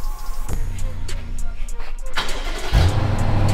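A BMW 750i is started by remote: a brief cranking whir catches, then the engine settles into a close, steady low idle rumble.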